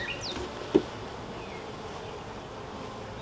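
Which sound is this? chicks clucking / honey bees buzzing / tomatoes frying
honey bees buzzing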